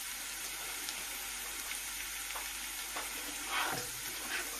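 Garlic frying in a pan for street-style vegetable Manchurian, a steady close sizzle with a few soft stirring scrapes and no talking.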